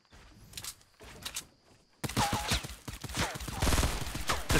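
Gunfire in Fortnite Season 6 during a duo versus squad match in a cornfield, quick bursts of shots rising into a dense, continuous rattle in the second half, fairly close and loud.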